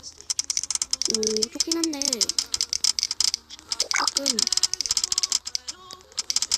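Clacky typing on a computer keyboard being tried out and rated, a rapid run of sharp close key clicks with short pauses, mixed with casual speech and a few sliding vocal sounds.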